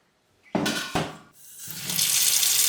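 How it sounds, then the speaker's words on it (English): Cold water runs from a kitchen tap into a saucepan holding meat, starting with a splashy gush and a knock, then settling into a steady, rising rush as the pan fills. "And now I'm gonna fill this up with cold water."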